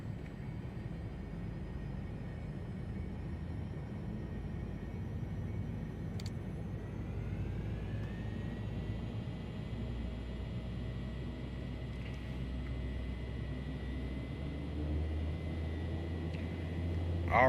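Piaggio Avanti P180 turboprop engine in Microsoft Flight Simulator spooling up with a steady droning rumble and a whine that rises in pitch partway through, then holds, continuous and alone.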